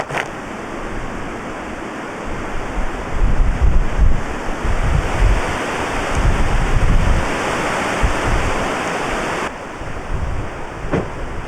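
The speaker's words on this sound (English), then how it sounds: "it's ridiculously windy" Heavy wind buffets the microphone in a continuous low roar with gusty surges, loud throughout and with no voices.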